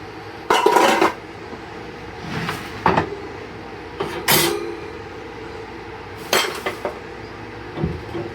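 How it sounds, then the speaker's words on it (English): Old metal bread pans clatter and clank as they are handled in a pantry, with several separate bursts of metallic rattling and scraping spread across the clip, fairly close and without any talk. "Some old bread pans"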